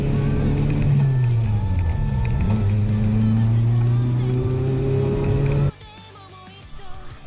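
A car drifting through linked turns in third gear, its engine note rising and falling loudly and close as it swings through the corners, then cutting off abruptly near the end, with faint crowd noise behind.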